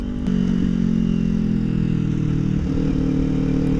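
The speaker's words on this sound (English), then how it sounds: "Just got a nice little rumble to it, not too much, but it's a lot better than the stock" A motorcycle with an aftermarket exhaust idles in a loud, close, steady low rumble, its deep throb continuous throughout with a slight rise near the end.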